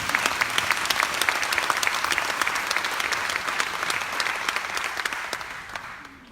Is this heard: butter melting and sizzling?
no